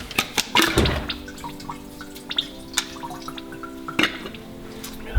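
Diesel fuel drains out of the fuel filter of a PSA 1.6 HDi engine, heard as irregular close drips and trickles with a few small splashes and metallic knocks.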